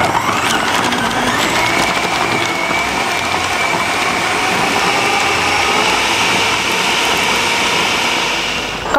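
A blender grinds chicken with egg white into a smooth dim sum filling, a loud, steady high-pitched motor whir that holds for the whole stretch with no talking.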